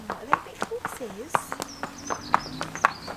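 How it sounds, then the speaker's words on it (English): Large horses walk past outdoors, their hooves giving a steady run of sharp clip-clop beats at close range, with people talking and greeting each other over the top. "Wow, are they big horses?"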